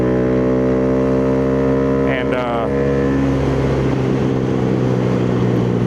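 A Honda Grom motorcycle fitted with a Yoshimura exhaust idles and revs loudly and steadily up close, its engine note rising and falling, with a brief spoken word partway through.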